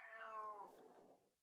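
A single faint cat meow that falls in pitch and fades out over about a second, with no other sounds around it.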